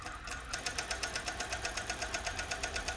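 Sewing machine stitching elastic into a child's trouser waistband, a fast even rhythm of mechanical needle beats running steadily close by with no talking.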